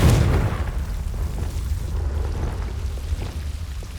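A Confringo explosion spell in Hogwarts Legacy bursts loudly at the start, then trails into a rumbling, low decay that lingers for several seconds.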